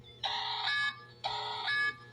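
An electronic alarm sounds in two steady, bright bursts of under a second each, separated by a short pause and heard clearly with no talking.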